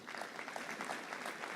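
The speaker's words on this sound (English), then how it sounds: "I think you should clap." An audience at a health and vitality conference claps in a brief burst of steady, fairly distant applause.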